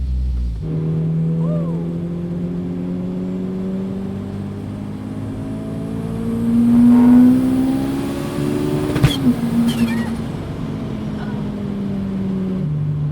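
A Volkswagen Golf Rallye's turbocharged engine pulls hard under acceleration, a steady droning tone climbing in pitch and swelling louder midway, heard from inside the car with a brief sharp transient near the end.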